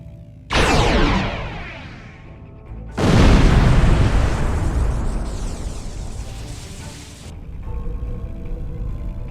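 Star Trek Online starship weapons fire and explosions: a loud booming blast, then a bigger, longer rumbling explosion that slowly fades, then lower rumble, with no speech.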